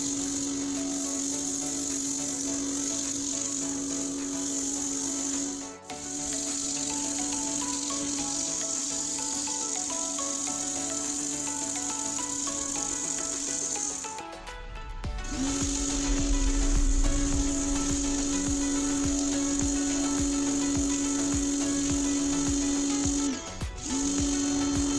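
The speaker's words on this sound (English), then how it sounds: "pressure washing paint is a very messy job." A pressure washer strips paint from wood during a house renovation: a steady droning pump with a bright hissing spray that runs almost continuously, with brief cutoffs.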